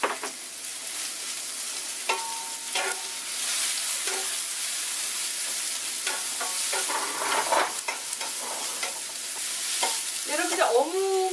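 Japchae glass noodles stir-fried with vegetables and fish cake in a pan, with continuous close sizzling and repeated scraping and tossing of a utensil, no speech.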